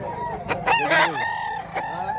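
Rooster crowing at a rooster expo in Mantalungon, Barili, Cebu: a close, loud drawn-out crow with a second shorter call near its end, over a busy crowd background.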